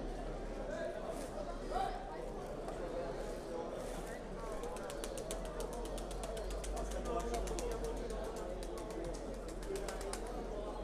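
Tumbler pigeons at the Bursa bird market in Turkey, with bird calls and cooing over a constant busy crowd murmur and voices talking throughout.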